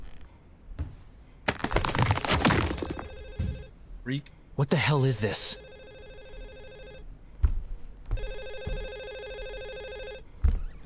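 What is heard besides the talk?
telephone ringing in the police horror game Hazing Night Shift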